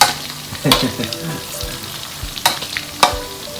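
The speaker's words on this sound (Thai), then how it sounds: "หนูนาทอดนะครับผม" Field rat legs deep-frying in hot oil give a dense, crackling sizzle, broken by a few sharp pops and clatters from stirring, close by and with no speech.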